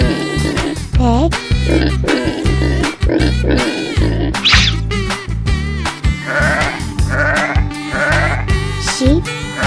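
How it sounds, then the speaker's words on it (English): Cartoon sheep bleating in a farm-animal kids' song, a few wavering baa calls set over loud, rhythmic backing music. "sheep,"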